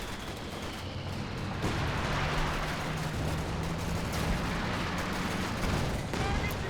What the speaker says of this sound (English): Okay, we've got some artillery coming in here.